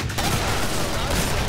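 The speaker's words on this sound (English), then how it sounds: "Those crawlers are really hard to hit with a shotgun." Shotgun blasts in the video game Killing Floor, fired at fast crawler enemies: dense, continuous rapid gunfire and booming impacts filling the whole moment, loud and close with game noise layered over it.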